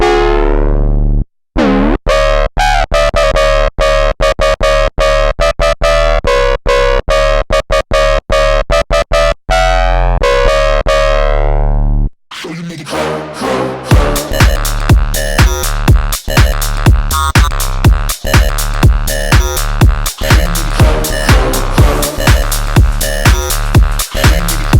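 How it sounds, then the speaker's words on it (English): A droning, distorted synth bass from an ASM Leviasynth holds long buzzy notes through analog filter pre-drive, then breaks into a driving pulsing pattern of gritty, filtered bass hits. "This bass sound is super simple and it's one I design all the time in Serum"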